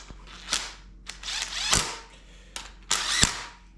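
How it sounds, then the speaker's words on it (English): An impact gun runs nuts down loosely on a 5.3 LS engine during a top-end build, giving several short buzzing bursts with sharp clicks, close and alone. "I'm gonna run these guys down close to the impact gun"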